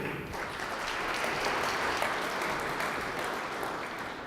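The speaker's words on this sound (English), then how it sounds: "a huge round of applause for SEM Drive" A crowd at a tech startup pitch event gives a round of applause, many hands clapping in a dense, even roar that holds steady throughout, with no speech over it.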